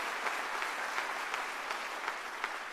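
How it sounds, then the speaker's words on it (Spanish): A church congregation applauds the Lord, a steady wash of many hands clapping at once with faint rhythmic accents, moderately distant and continuous, with no voices over it. "Si vas a darle un fuerte aplauso al Señor, que sea con fuerza"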